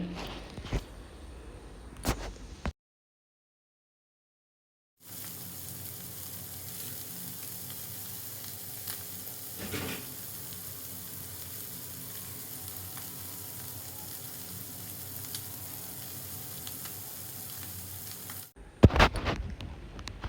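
Fish sizzling steadily as it fries in coconut oil, a dense close crackle that holds for over ten seconds after a brief silence, framed by some clattering handling noises at the start and end.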